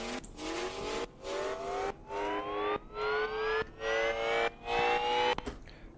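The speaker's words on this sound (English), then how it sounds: "The main difference is this siren downlifter that plays at the very start of the build." Synthesized siren riser in a dubstep build, sweeping steadily upward in pitch across several seconds while chopped in a rhythmic pulse of repeated gated bursts, loud and without voices.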